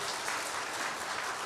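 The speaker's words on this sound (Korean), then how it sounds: "박수 주세요." A church congregation claps together during a Sunday service, a brief dense burst of applause at moderate distance with no talk over it.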